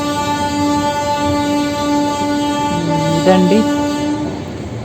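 A passenger train arrives at Nizamuddin railway station in Delhi. A steady, loud mechanical hum and rumble fills the platform, with a brief rising horn-like tone partway through and a single short spoken word.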